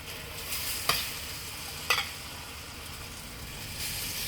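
Batter for a vegan aubergine omelette spooned into a Minute Cooker, a soft sizzle throughout with two distinct clinks of the spoon, fairly quiet and close.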